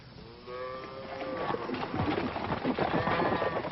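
Cattle moo repeatedly, long low calls layered over one another with outdoor noise and some scuffling, fairly close.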